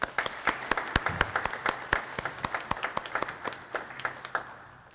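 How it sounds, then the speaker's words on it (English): A modest round of applause at an 8th grade promotion ceremony, with distinct, sharp claps from a smallish audience, steady and then thinning out toward the end. "a massive round of applause"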